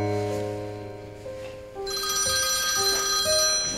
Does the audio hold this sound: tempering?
no